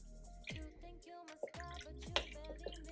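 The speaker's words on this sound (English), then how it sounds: "Just gonna pour a little bit more water in here until everything is covered" Water poured from a container into a cooking pot of food being prepped for Thanksgiving, a few close splashing pours and drips with short gaps between them, no talk.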